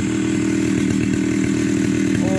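A chainsaw mill bites steadily through a log, cutting it into boards, its engine droning loud and continuous at close range with no pauses.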